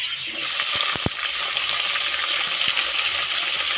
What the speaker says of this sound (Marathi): आता मी मिरची टमाटर टाकून घेते त्याच्यामध्ये